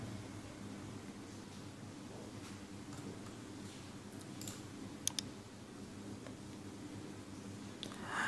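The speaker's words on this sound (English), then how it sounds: "I'm just going to type the short form of Fallout" A handful of soft clicks on a computer keyboard as a short movie name is typed, faint and sparse over a steady hiss of room noise.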